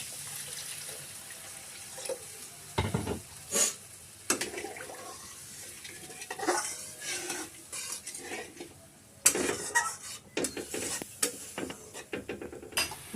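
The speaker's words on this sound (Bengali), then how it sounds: "ঝোল ফুটে গেছে" Fish curry broth seasoned with coriander, cumin and Kashmiri chili powder bubbles in a pot, a steady watery boil broken by scattered louder splashes and metallic clinks of utensils, with no voices.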